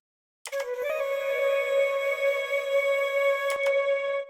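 A sampled oriental flute, treated with parallel compression and room reverb, enters after a brief silence with a few quick grace notes, then holds one long bright note with a soft reverberant tail.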